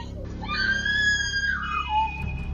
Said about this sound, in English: That scream will echo in my head for many years.